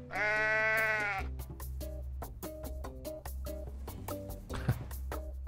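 A loud, drawn-out goat bleat in Goat Simulator opens, followed by a run of short, clipped bleating notes over a low hum, the pattern repeating like a game loop.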